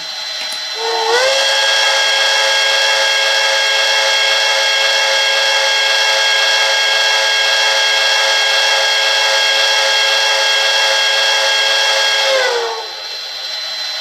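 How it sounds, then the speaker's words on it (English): A long, steady whistle from an HO scale model of Pere Marquette 1225 steam locomotive with DCC sound blows for about eleven seconds, loud and close, with a breathy hiss under its chord before it tapers off. "Let's have a long whistle blow."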